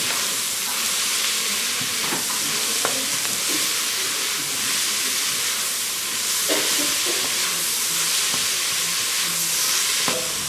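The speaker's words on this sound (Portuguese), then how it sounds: "Vou juntar então aqui a cenoura. Deixar refogar só aqui 1 minuto." Carrot sautéing in a pan with nearly softened onion, a steady, close sizzle with occasional stirring clicks and knocks throughout, no voices.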